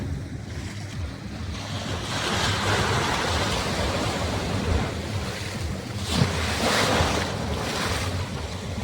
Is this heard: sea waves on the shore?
yes